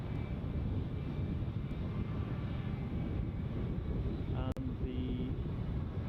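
An Airbus A319 bound for Mykonos taxis out at Düsseldorf airport, giving a steady, fairly distant engine drone with a faint whine and a brief click, no talking.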